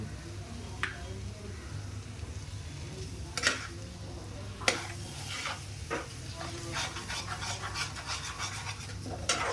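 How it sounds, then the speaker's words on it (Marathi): Egg bhurji being stirred as it fries in a pan, with intermittent spatula scrapes and taps over a constant low sizzle, close and fairly quiet, the stirring growing busier toward the end. "आणि मस्त आता हलवून घ्यायचं."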